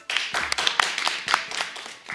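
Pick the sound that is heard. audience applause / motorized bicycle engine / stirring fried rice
audience applause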